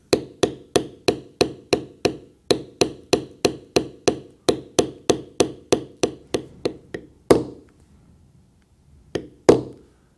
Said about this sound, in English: with my large beveler, I will bevel inside my cut all the way around